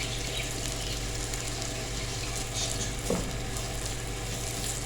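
Julienned carrots fry in a pan with ginger and garlic while a steady sizzle runs throughout, joined by a brief stir near the end.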